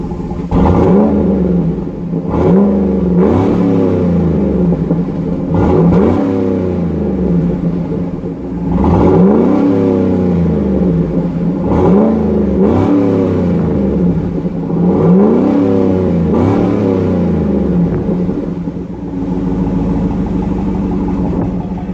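A 2008 GMC Sierra Denali pickup with a naturally aspirated 6.2-liter Vortec V8 revs in repeated loud bursts, each rising and falling, about six throttle pulls over a constant low rumble.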